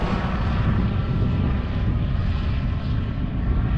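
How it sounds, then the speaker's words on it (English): A steady, loud helicopter rumble with a low throbbing drone holds evenly throughout as it passes close overhead in the UK. "way to start the day with a helicopter flyover"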